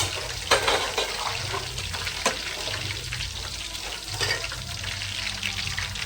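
Mustard seeds, cumin and dried red chillies frying in hot oil for a village-style Andhra pulusu, giving a steady loud sizzle with occasional sharp pops and crackles throughout.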